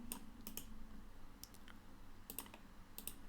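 Clicks from a computer mouse or keyboard come in small clusters, crisp and near, with a few paired clicks spread across a few seconds in an otherwise quiet room.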